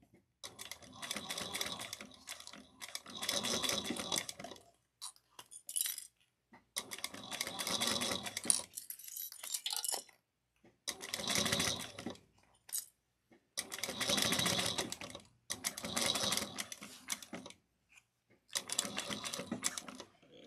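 A sewing machine stitches a zipper in repeated runs of rapid mechanical whirring, each lasting a few seconds and separated by short pauses, close and moderately loud with occasional small clicks in between.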